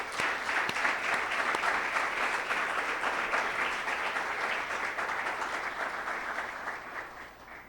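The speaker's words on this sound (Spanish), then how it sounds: "Dar un aplauso al Señor." A church congregation applauds during a sermon, a dense, steady wash of many hands clapping throughout that tapers slightly near the end, with no talk over it.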